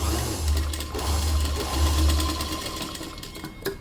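A sewing machine stitches a tuck in a blouse, running close and loud as a steady low mechanical hum, with a few short pauses and speed changes between runs.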